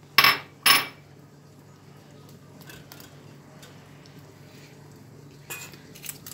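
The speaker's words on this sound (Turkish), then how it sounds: "Bunu iyice karıştırıyorum." A spoon clinks sharply twice against a pot of orange pudding with melted margarine, then stirs quietly before two more lighter knocks near the end.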